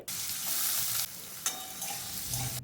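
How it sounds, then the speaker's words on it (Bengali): Whole cumin, cardamom seeds, slit green chillies and potato pieces are dropped into hot oil. A loud, steady sizzle plays up close with a few stirring clinks. "তেলের মধ্যে দিয়ে দেব গোটা জিরে হাফ চা চামচ, 2টো এলাচের দানা দিয়ে দেব, সাথে দিয়ে দেব চেরা কাঁচা লঙ্কা, কেটে রাখা আলুর টুকরোগুলো দিয়ে দিতে হবে।"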